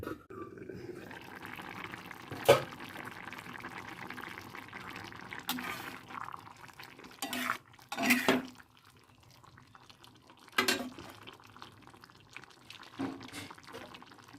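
A small amount of water poured into a covered cooking pot: faint trickling and splashing with a few brief louder pours and drips spread over the stretch, close by and quiet, with no clear speech.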